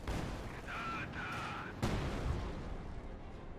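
H160 artillery bombardment in Company of Heroes 2, a sustained rumbling barrage with a sharp blast near the middle, followed by a rolling, decaying boom.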